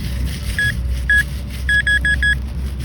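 Metal detector sweeping over a buried target in ground after rain: short high electronic beeps, two isolated pings and then a rapid burst of several, over a steady low outdoor rumble.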